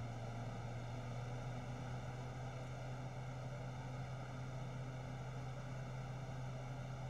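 Steady propeller drone of a simulated C90 King Air turboprop with props advanced, a constant low hum with strong harmonic bands, continuous and even, no talk over it.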